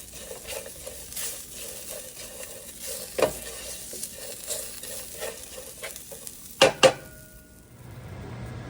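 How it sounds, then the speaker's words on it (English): Cashews roast in a hot pan and sizzle steadily while a utensil stirs them, scraping and clinking now and then, with two sharper metallic knocks near the end before the sound thins out. "You can see the cashews starting to get roasted."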